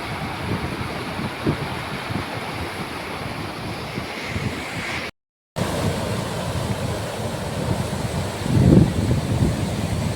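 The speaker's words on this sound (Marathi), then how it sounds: "काही फ्लो खूप आहे आता आता परत वाढलाय आणि फार जाम फ्लो आहे" Strong flood water rushing in a steady, broad roar, close and continuous with wind buffeting the microphone, a brief dropout midway and a louder surge near the end.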